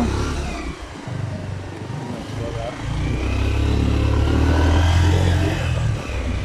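Motorcycle engine drones steadily and builds toward a louder revving stretch while riding along a mountain highway under construction in Nepal's mid-hills; wind and road rumble mix in, with a voice talking over it.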